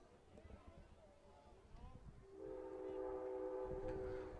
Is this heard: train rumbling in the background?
yes